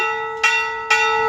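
A temple bell rings during a morning Ashtami puja, struck twice about half a second apart, each loud clang leaving a bright, sustained metallic hum that carries through to the end.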